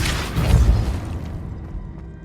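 A Depulso spell blast in the video game Hogwarts Legacy, a single deep booming burst that swells quickly and then fades away into a quiet tail.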